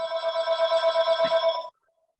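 A mobile phone rings with a steady, rapidly pulsing electronic trill, clear and close, lasting about a second and a half before stopping abruptly into silence.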